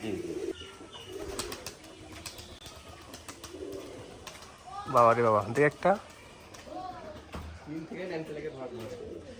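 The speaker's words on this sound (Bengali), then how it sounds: "সেলের কবুতরগুলো দেখেন না সেলের কবুতর দেখাই এবার সেলের কবুতর দেখেন" Pigeons coo at a Bangladeshi pigeon farm, soft and low, mostly under close conversation, with a louder burst of voices and calls midway.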